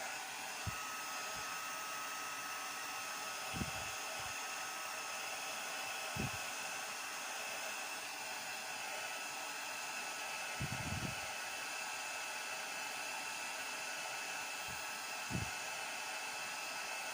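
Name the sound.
heat gun blowing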